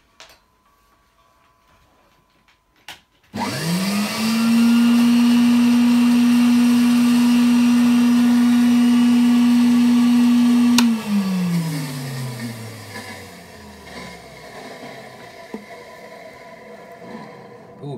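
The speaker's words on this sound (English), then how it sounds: "God, the motor on that is as dry as buggery." A 1961 BYLOC table vacuum cleaner with a dry motor switches on with a loud, steady high whine and runs for several seconds, then is switched off and winds down gradually.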